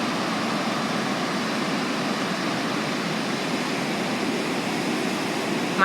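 Indian Ocean waves washing onto a beach at sunset, a steady, dense roar of surf that holds without a break, with no voices.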